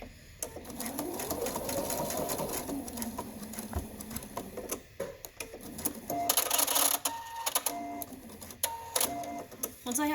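A sewing machine stitches elastic onto a cloth mask, running in repeated bursts as it goes back over a reinforced seam, close and fairly loud with brief pauses between passes.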